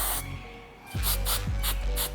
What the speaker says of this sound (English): spray my adhesive in small sections